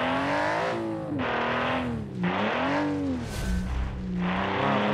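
Rally car with a laggy turbocharged engine in the BeamNG.Drive game, a 1985-style Automation build, its loud engine note rising and falling through repeated revving and gear changes, continuous and close, no talk.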